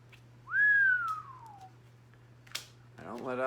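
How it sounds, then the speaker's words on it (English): A single rising-then-falling whistle, clear and close, followed after a short pause by a brief click and then a voice starting to speak. "I don't let out the whistle often"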